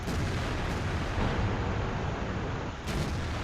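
A heavy tank cannon firing in World of Tanks, with the M103 and VK 45.02 A involved: a loud, dense blast and roaring rumble filling the whole clip, with a second sharp crack near the end.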